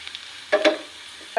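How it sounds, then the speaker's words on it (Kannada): Garlic sizzles and crackles in hot oil in a pan in short bursts, with a stirring scrape partway through and a fresh sizzle at the end. "ಸ್ವಲ್ಪ ಬೆಳ್ಳುಳ್ಳಿ ಇವು ಅದೇ ತನಕ ಫ್ರೈ ಮಾಡ್ಕೋಬೇಕು"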